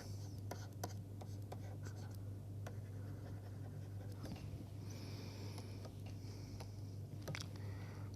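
Faint scratchy marker or chalk strokes writing out cases during a data analysis lecture, quick irregular taps and scrapes over a steady low room hum.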